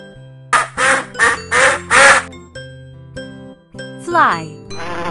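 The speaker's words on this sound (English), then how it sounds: "Duck." A duck quacks loudly in a quick run of four or five honking calls, followed by a short descending call over soft tinkling chimes.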